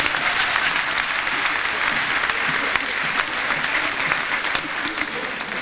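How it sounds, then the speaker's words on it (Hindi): A seated audience at a comic gathering, the Mahamoorkh Sammelan, breaks into dense, loud applause that holds steady for several seconds, with faint voices mixed into the crowd noise. "भैया आप लोग ताली बजाएं प्लीज"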